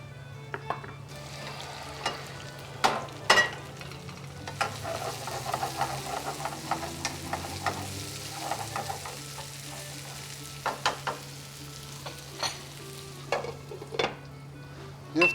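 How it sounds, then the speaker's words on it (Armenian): Leek and mushrooms fry together in a pan with a steady, close crackling sizzle, punctuated by sharp spatters and occasional utensil clicks over a low background hum. "Եվ տապակում ենք։"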